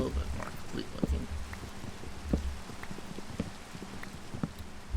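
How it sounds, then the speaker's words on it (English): Rain falls in Minecraft, a steady pattering hiss with irregular drop ticks and soft thuds throughout, heard alongside faint voices and game sounds. "But I kind of figured that the rain would come eventually."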